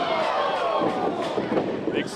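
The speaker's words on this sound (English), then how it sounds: "Ace Steel actually getting the crowd to clap for him" A large wrestling-show crowd fills the space with dense, continuous noise that sounds like broad clapping and cheering, with a commentator's voice running over it.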